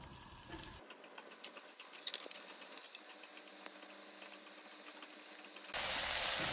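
Chopped green onions fry in a thin coating of avocado oil, giving a steady close hiss with scattered small crackles and pops. The sizzle carries on alone with no talking.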